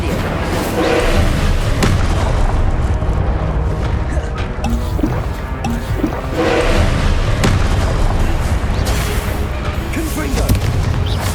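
Repeated explosive spell blasts from Hogwarts Legacy, with deep booming thuds recurring every few seconds over a dense, continuous game soundscape, loud and close.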